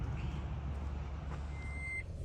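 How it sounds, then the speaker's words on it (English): A vehicle's reversing alarm sounds over a loud, steady engine rumble, with a high electronic beep rising clearly near the end. "beep, beep. I know we're backing up."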